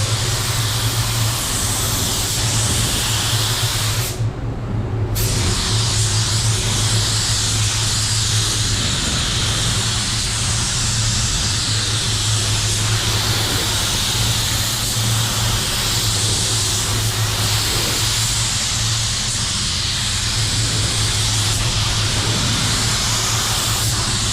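A spray gun with a 1.2 MP air cap painting, giving a steady loud hiss of air and atomised paint that runs nearly unbroken, with one brief pause, over a low constant hum.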